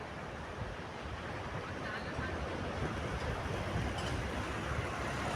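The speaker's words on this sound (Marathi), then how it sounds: "मी कॅमेरा इकडं आणला आणि इकडं लाटा चालू झाल्या" Sea waves wash onto the shore on a foggy coast, a steady broadband roar with wind buffeting the microphone throughout, no distinct breaks standing apart.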